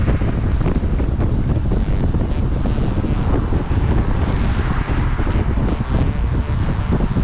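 Heavy wind buffets the microphone while riding a bicycle, a loud, constant roaring rumble that stays dense throughout with no pauses or voices.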